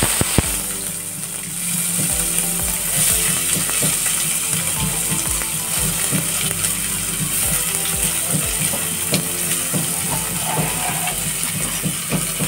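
A large chopped onion fries in a pan for stuffed eggplant, giving a steady, loud, close sizzle with occasional clinks and spatters throughout.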